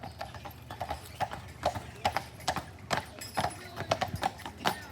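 Carriage horses clip-clopping past on the streets of Mackinac Island, a loud, close, uneven run of hoof strikes on pavement with faint background chatter.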